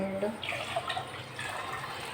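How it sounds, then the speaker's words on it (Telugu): Water runs and splashes into a pot of rasam, a steady pour under someone speaking Telugu. "ఇంకా నీళ్లు పోయాలి దీనిలో."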